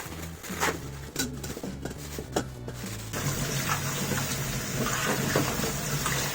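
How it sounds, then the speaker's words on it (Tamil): Tap water runs into a kitchen sink while vegetables are washed, with a few clinks and handling noises before the flow grows into a steady, fuller rush partway through. "இந்த பக்கம் சிங்க்ல வாஷ் பண்ணிட்டு"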